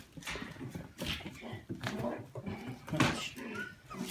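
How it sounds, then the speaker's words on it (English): Several young Prism and Jute puppies whimper, yelp and squabble close by in short, uneven bursts of high whining and growly scuffling, with a person's voice mixed in at moments. "who's fighting? Hey, pups!"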